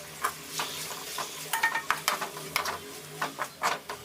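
Tomatoes being mashed and stirred in a frying pan, cooking down into a gravy: irregular scraping and squishing strokes of a spoon against the pan over a soft, close sizzle.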